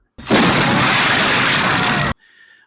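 A loud sustained explosive burst from the head explosion scene in the horror film Scanners, a dense roaring blast lasting about two seconds that cuts off abruptly into quieter sound.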